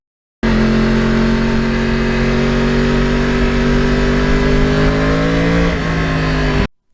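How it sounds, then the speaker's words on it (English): A 2009 Yamaha R1 crossplane sportbike pulls hard through the gears. A loud, steady engine note climbs in pitch, dips briefly at a shift, then keeps pulling before cutting off abruptly. "there's just something about going through the gears on any bike, and especially on the R1"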